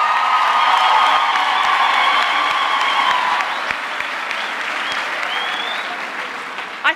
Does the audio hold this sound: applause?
yes